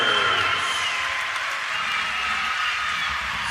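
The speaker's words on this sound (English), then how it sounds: "Look at everybody cheering against Penn State" Arena crowd at a Big Ten wrestling championship final cheering against Penn State, a steady dense roar with applause texture filling the space throughout, loud and continuous with no clear break.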